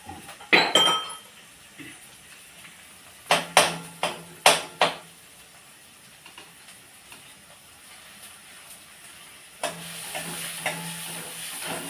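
Leftover rice being tempered in a pan for breakfast: sharp clinks and scrapes of a spoon stirring against the metal come in quick bursts, then a steady soft sizzle of frying takes over, close by with no talking.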